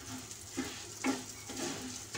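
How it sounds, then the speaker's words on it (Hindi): Broken wheat and fennel seeds roast in desi ghee for sweet lapsi, with a steady soft sizzle and a few scrapes of the spoon at regular intervals. No one speaks. "और इसे मैं अच्छे से भून लूंगी।"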